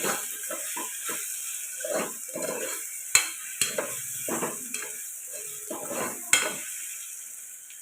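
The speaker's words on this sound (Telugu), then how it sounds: "టమాటా ఒక నిమిషం పాటు ఫ్రై చేసుకోండి" Tomatoes frying in a pan with turmeric for tomato dal, a steady sizzle broken by repeated stirring scrapes and a few sharp metallic clinks of the utensil against the pan, close and with no speech.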